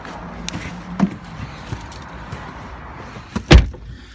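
Someone climbs into a Porsche 911, with soft rustles and small clicks leading to a sharp, solid door thud near the end, close and fairly quiet overall.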